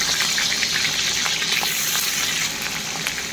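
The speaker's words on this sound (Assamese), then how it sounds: "এতিয়া পিঁয়াজ জলকীয়াটো আগতে ভাজি কৰি লওঁ।" Onion and green chili fry in hot oil, a loud, close, continuous crackling sizzle with fine spitting pops throughout and no voices.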